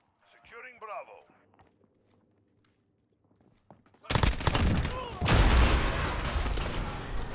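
Suppressed gunfire from Call of Duty Modern Warfare 2019 comes as a dense run of muffled, rapid shots after a quiet stretch with brief speech, continuing loud with scattered impacts.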